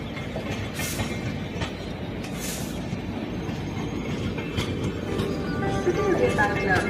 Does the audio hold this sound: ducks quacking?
no